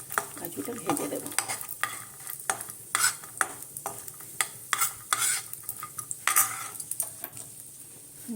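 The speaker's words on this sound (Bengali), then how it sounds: "কাজুটা ভেজে দেব" Cashews frying in a pan while carrot halwa is made, with a spoon stirring and scraping against the metal in uneven bursts over a steady, soft sizzle, close up and with no talking.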